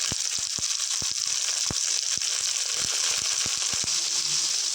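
Tomatoes and small onions frying in a mud pot, a constant close sizzle with scattered soft pops and crackles throughout.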